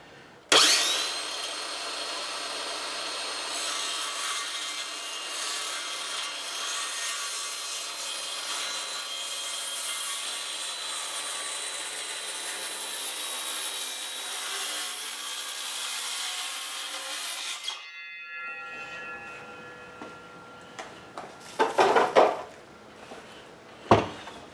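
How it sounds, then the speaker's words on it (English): A saw cuts through a cedar board with a steady, continuous rasping drone that lasts a long stretch, then stops abruptly, followed by a few loose knocks and clatters from handling the wood. "let's go ahead and cut this board."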